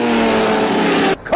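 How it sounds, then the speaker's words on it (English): Race car engine at high, steady revs, a loud close droning roar that cuts off abruptly near the end and is followed by a brief burst of other noise. "this is my passion, racing these cars."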